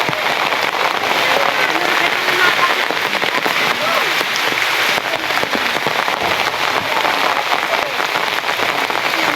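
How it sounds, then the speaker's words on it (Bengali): Heavy morning rain pours down steadily, a dense, loud hiss of drops striking surfaces that continues without a break from start to finish. "প্রচণ্ড পরিমাণ বৃষ্টি হয়েছে"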